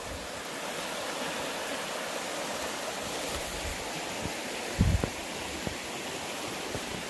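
Water flowing in a stream beside a hiking trail at Banning State Park, a steady broadband rush held at an even level throughout with a brief louder splash or knock near the middle and no talk.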